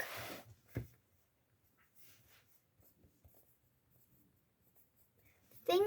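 Pen writing in a book: faint, intermittent scratching strokes in a quiet room, with a soft thump near the start and a brief louder noise at the end.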